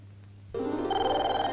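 After a moment of quiet, a telephone bursts into a steady electronic ring in a Telugu comedy film scene, holding loud and unbroken with no voices.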